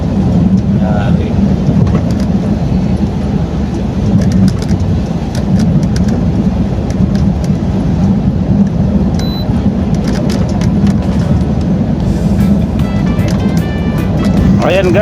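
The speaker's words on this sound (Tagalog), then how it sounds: "umpisa na ang ulan-ulan at pabugso-bugso" Heavy rain pours steadily and loudly throughout in gusty bursts, with a constant dense patter and low rumbling like thunder underneath.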